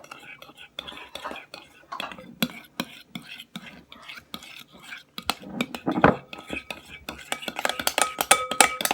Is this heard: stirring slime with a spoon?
yes